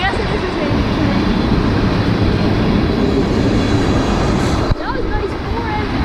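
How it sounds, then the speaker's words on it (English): A long CSX tanker freight train led by four Norfolk Southern locomotives rolls past nearby, its steady loud rumble and clatter of railcars continuing throughout, with a person speaking briefly over it. "Yeah, so I guess it is a tanker train."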